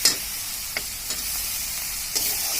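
Tomatoes and onion greens fry with spices in a pan, a close, steady sizzling hiss with a handful of brief scraping stirs, no voices.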